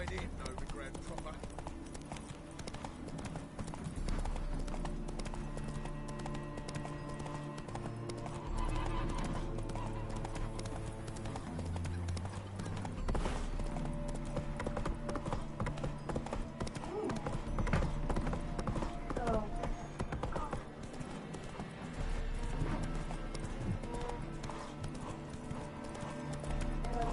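Roach the horse gallops in The Witcher 3, a continuous rhythmic clip-clop of hooves under game music and voices, with an occasional whinny.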